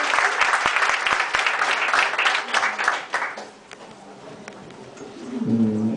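An audience at a vegetarian event in Madrid claps loudly and steadily to welcome a speaker. The applause thins and fades after about three seconds as a voice begins talking.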